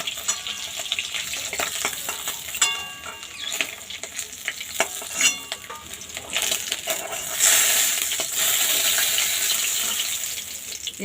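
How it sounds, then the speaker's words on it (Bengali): Fish frying in a pan for a Poush Sankranti dish, a loud close crackling sizzle throughout with frequent sharp clicks and scrapes of a turner against the pan, the hiss swelling louder toward the end. "এইভাবে আর একদিকে ভেজে নেব মাছটা"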